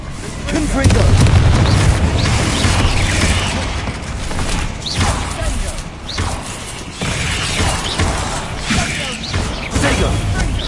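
Repeated Confringo fire spells cast in Hogwarts Legacy, with booming, crackling blasts going off one after another amid continuous clattering game action, loud and dense throughout.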